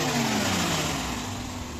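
A car engine converted from carburetor to EFI with a dual throttle body, revving loudly up close and then settling back as the throttle eases, a continuous mechanical roar with no talking.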